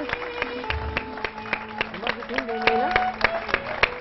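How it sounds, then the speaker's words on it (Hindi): A studio audience on a television show gives standing applause, with steady, moderately loud clapping over faint music. "मैं चाहता हूँ कि एक दफ़ा हम सब इनके लिए खड़े होकर तालियां बजाएं"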